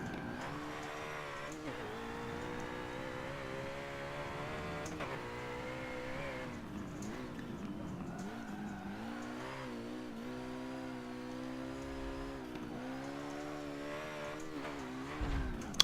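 A stock car's engine in the racing video game Forza Motorsport 7 drones and revs steadily through gear changes, rising and dipping in pitch with brief lulls and a faint tire squeal, continuous and close without talk.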